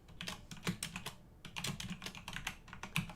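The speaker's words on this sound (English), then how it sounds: "you're going to have to manually type it in" Fingers type an address on a computer keyboard in quick, uneven runs of close, crisp keystrokes, with a short pause partway through.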